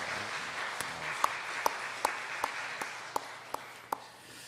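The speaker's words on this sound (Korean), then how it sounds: "박수를 한번 격려하십시다" Congregation at a Korean church school teachers' Sunday service gives soft, sustained applause, a faint wash of clapping with a few sharper individual claps standing out in a steady rhythm near the microphone.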